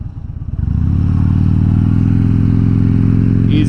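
A 2014 Harley-Davidson Dyna Fat Bob idles with a loud, deep, lumpy rumble that settles into a steady, pulsing beat after a brief rise at the start, heard up close with no talking.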